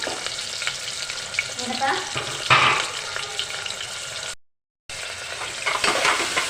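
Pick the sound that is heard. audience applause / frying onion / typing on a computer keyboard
frying onion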